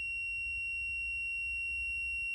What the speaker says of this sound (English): Some vehicles will give this annoying beep as it's programming the key.